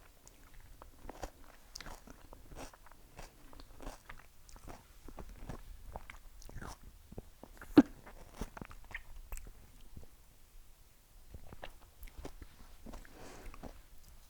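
Close, quiet biting and chewing of a kothu manga mango dish, with soft crunchy bites and wet chewing noises coming in an uneven rhythm and no talking.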